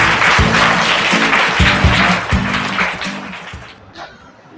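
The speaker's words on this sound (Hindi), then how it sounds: "जोरदार तालियां हो जाएंगे इनके लिए।" Studio audience of a Hindi quiz-competition show applauds loudly for a contestant, a dense burst of clapping over a booming musical sting with heavy low hits, fading away near the end.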